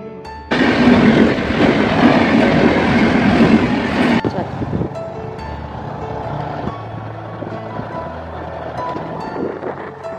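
A train rolls past a closed railway crossing, a loud, steady rumble with wind buffeting the microphone that drops to a lower, continuing clatter partway through.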